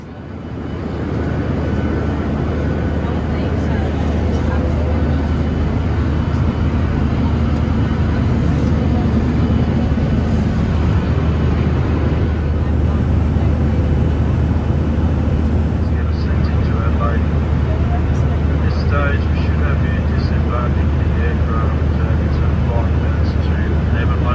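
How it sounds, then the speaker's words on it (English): Steady engine roar and airflow inside a Virgin Australia airliner cabin descending into Adelaide Airport, a loud continuous drone with a low hum throughout and a brief shift in tone partway through. "We've now started to descend into Adelaide Airport."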